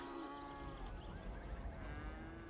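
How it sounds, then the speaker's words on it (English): Cow mooing in the city-building video game Cities: Skylines, a drawn-out bovine lowing that fills the whole stretch over a steady background hum, with no talk. "That's old Daisy right there. She's a good cow."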